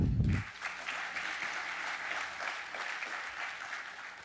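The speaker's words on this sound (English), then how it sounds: "And a round of applause for our colleagues, our Board of Education" An audience at a high school dedication ceremony applauds the Board of Education, with steady, moderately loud clapping throughout after a brief low thump at the very start.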